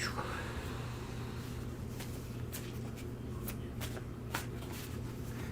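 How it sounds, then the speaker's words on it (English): Tarot cards being shuffled, with a run of soft, quick riffling flicks and snaps in the latter half over a quiet room hum and faint low talk. "Oh, you shuffle first."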